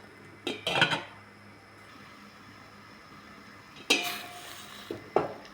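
A lid is placed on a metal cooking pot holding beef pata, lemongrass and garlic, giving a few close clinks and clatters in two clusters with quiet pauses between.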